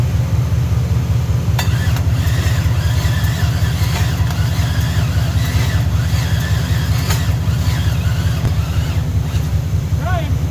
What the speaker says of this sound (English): That starts nice and it's nice and hot.